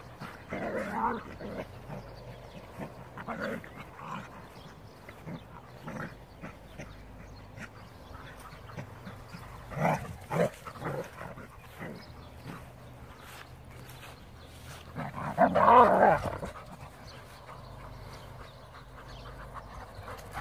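Dogs scuffle and yip intermittently, with short barks, whimpers and quacking-like squeals breaking through a quiet background, loudest near the end.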